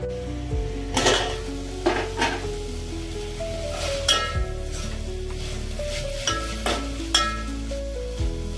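Wild greens (girajla) with onion, turmeric, green chilli and garlic sizzling in a pan as a utensil scrapes and stirs them, producing repeated clinks and scrapes over a steady close frying hiss, with no talk.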